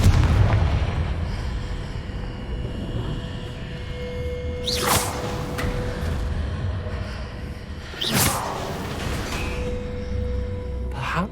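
The Confringo explosive spell in Hogwarts Legacy, two loud whooshing blasts a few seconds apart over a steady rumbling game ambience, each a sharp bursting boom that quickly fades.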